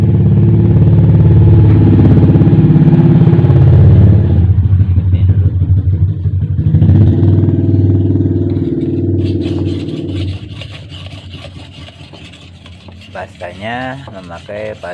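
Meat knife rubbed along a sharpening surface coated with toothpaste, a loud continuous rasping scrape that thins into softer, uneven strokes and scratchy clatter toward the end.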